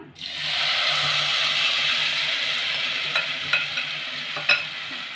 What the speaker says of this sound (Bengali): এবার আমি যে ব্যাটারটা গুলে রেখেছিলাম এটা আমি এবার ঢেলে দিলাম